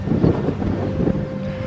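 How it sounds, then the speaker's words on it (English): Wind blowing on open Dartmoor moorland, buffeting the microphone with a loud, steady low rumble and gusts, no talking. "that wind seems to be easing a little bit"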